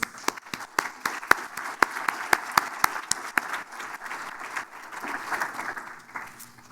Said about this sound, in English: we give you a round of applause in any case.